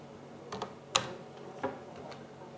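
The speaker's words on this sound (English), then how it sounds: "now here we have to type views" A few scattered keystrokes on a computer keyboard, soft clicks with one sharper tap, sound close by in a quiet room while writing code, with no talk.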